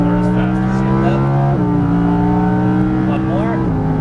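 Close, loud Lamborghini Huracan LP610 engine accelerating around a track, its pitch rising then dropping sharply at two quick upshifts before climbing again.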